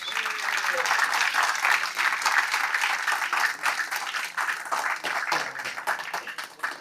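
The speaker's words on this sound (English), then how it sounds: "Let's give them a big round of applause." Audience applause for three pipe-smoking competitors at the Chicago Pipe Show 2024 Battle of the Briar, a dense and steady wash of clapping lasting throughout, with crowd voices mixed in.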